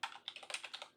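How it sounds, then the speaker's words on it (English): Quick, close run of key presses on a computer keyboard while entering a PowerShell command, soft rapid clicks in an irregular burst with nothing else around. "Now all we have to do is type in"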